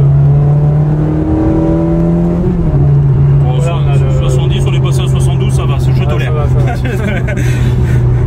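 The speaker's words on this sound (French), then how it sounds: "on a le son, on a le son du V8" The 400-horsepower V8 of a Ferrari 360 revs and pulls loudly from inside the moving car, its tone sliding and rising through gear changes, with someone speaking over the engine.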